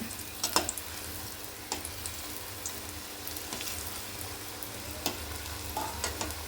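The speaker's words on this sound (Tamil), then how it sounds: "நல்லா சூடான எண்ணெயில் போட்டு எடுத்தால் தான் நமக்கு கிறிஸ்பியாக வரும் வடை" Medu vada frying a second time in hot oil, a steady crackling sizzle with scattered sharp pops and bubbling, moderately close and continuous with no voices.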